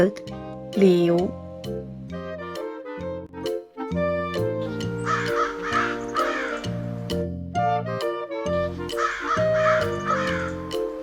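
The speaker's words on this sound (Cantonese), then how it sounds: "bird" A crow's cawing, heard as a few harsh calls set into a children's English alphabet lesson, alongside music and a voice speaking.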